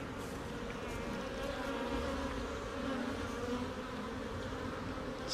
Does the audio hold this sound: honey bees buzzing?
yes